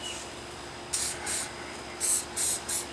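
Several short hissing bursts of aerosol cleaner sprayed onto a revolver, a pair and then a run of three, close by with quiet pauses between.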